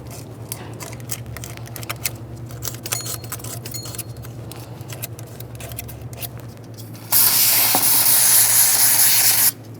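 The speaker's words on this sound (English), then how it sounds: "Let's just get some parts cleaner directly on the rag." Clicks and small rattles of handling give way to a loud, close hiss as parts cleaner is sprayed from a can onto a rag for about two seconds during valve cover work on a 2.3L 1998-2011 Ford Ranger.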